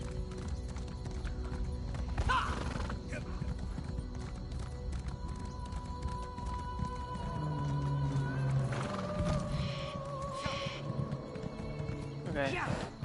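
Horse hooves clip-clop at a steady running rhythm in the video game Elder Scrolls Online, with an occasional whinny and game music while a voice talks over it.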